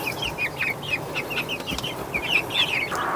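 Several hens in a coop cluck and squawk in short bursts over a steady background hiss, the calls close by and overlapping.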